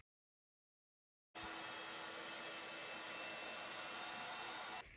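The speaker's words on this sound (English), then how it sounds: "I'm going to heat emboss that in clear embossing powder." A heat tool blasts hot air to melt clear embossing powder on a stenciled card, starting abruptly after a brief silence as a loud, steady whooshing hum with a faint whine that runs alone to the end.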